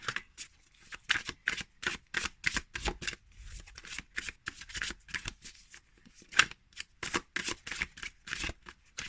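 Rapid, crisp riffling of playing cards in quick bursts, a steady run of snappy shuffling strokes close up with no talking.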